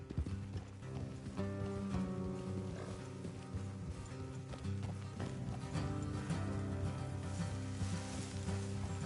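Horses' hooves thud in a quick galloping rhythm beneath orchestral music in the video game Red Dead Redemption 2, with a crackling, gritty texture running throughout.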